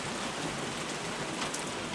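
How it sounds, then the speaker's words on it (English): Steady summer rain with big raindrops on a Serbian farm, a dense, even hiss of drops pattering close by throughout, with no voices. "Just starts raining. Very big raindrops."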